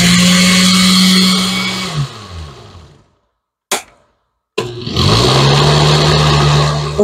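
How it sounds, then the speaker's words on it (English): A struggling kitchen blender whirs loudly through hot apple butter, winds down to silence, sputters briefly, then roars back up to full speed with a strained, labored tone. "My poor little blender don't sound so good, does it?"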